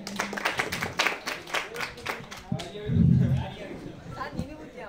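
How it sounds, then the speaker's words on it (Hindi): Crowd applause at a football ground welcoming the Chamba FC coach during a Sai Kangra FC versus Chamba (Kheri) FC match: brisk clapping in the first half, then a voice talks over a fading crowd. "कृपया जोरदार तालियों से इनका स्वागत करें"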